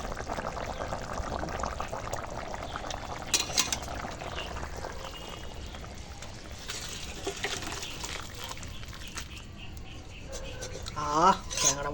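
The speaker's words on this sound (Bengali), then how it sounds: "ট্যাংরা মাছ রান্না হয়ে গেছে এবার ঢেলে ফেলবো" Cooked tengra fish curry pours out of a pan with a soft liquid trickle and splash, faint and intermittent, over background room noise and occasional clatter.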